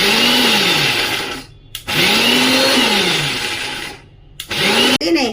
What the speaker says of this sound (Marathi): ताजा वाटाणा आहे आणि कमी जास्त करून आपण तो फिरून घेऊया